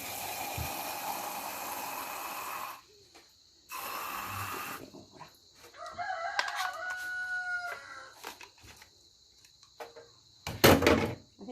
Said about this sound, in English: And that's a rooster.